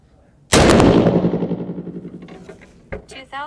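A single loud rifle shot from a 6.5 PRC loaded with US869 powder and magnum primers, a sharp crack followed by a long rolling echo that decays over a few seconds, with a faint clatter near the end.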